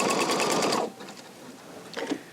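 A Pfaff sewing machine stitches a double ribbon stitch, with a steady close whir for under a second, then it stops and a few faint clicks and handling sounds follow.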